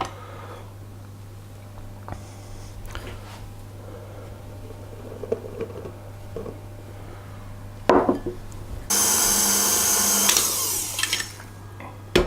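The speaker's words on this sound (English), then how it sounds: "Add the last third of the flour, mix it in and then scrape it down again" An electric mixer works the last of the flour into cupcake batter for Boston cream cupcakes, starting as quiet scraping and clatter before a loud whirring burst near the end.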